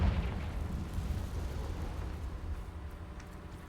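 A Confringo fire spell blasts in Hogwarts Legacy, a loud, rumbling explosion that starts sharply and trails into a long, roaring decay with no talking.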